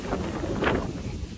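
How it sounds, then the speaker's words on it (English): Wind gusting across a farm pasture near cows, a brief muffled rush buffeting the microphone with a low rumble and a slight swell midway. "Windy."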